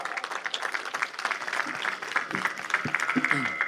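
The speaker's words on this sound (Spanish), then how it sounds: "un fuerte aplauso por el aniversario de nuestra" A crowd at a civic anniversary parade in Andahuaylas, Peru, applauds in a dense, continuous patter. A voice carries over it on a public address system, along with scattered tonal sounds.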